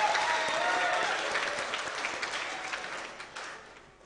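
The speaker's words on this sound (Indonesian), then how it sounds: "mari kita beri tepuk tangan yang meriah untuk orang tua kita" A hall full of graduation guests claps for the parents at a Diploma III ceremony at a furniture and wood-processing polytechnic. The dense, steady applause is loud at first, then gradually thins and fades.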